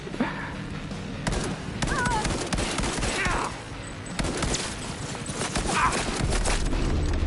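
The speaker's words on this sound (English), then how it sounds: "Gosh dang, man, those tech pistols are so annoying." Rapid tech pistol shots crackle in the futuristic shooter Cyberpunk, a dense, irregular volley of sharp reports spread through the whole stretch amid a busy, loud game mix.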